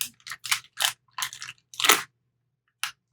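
Crinkly tearing and crunching of a stiff coffee bag in several short bursts, close up, then a final brief rustle after a pause.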